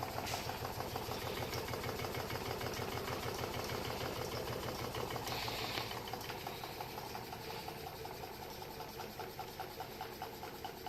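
A small homemade two-cylinder gamma Stirling engine driving a generator runs steadily with a rapid, regular mechanical chugging and faint rattle, close by and unbroken throughout.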